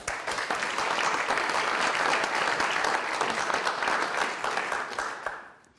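A studio audience claps warmly and steadily for several seconds to welcome a guest onto a German television discussion show, then the applause fades out at the end.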